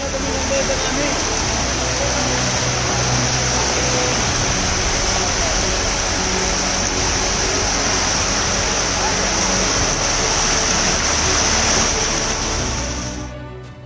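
Floodwater rushes steadily through a flooded subway in Mumbai, a loud, continuous roar and hiss that holds for the whole stretch before easing slightly at the end.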